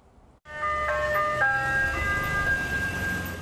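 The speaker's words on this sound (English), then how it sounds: "The ice cream truck rolls right on by the front of this two-story home in Perris" An ice cream truck rolls past a two-story house in Perris, its tinny electronic jingle ringing out loud and steady over a low engine rumble.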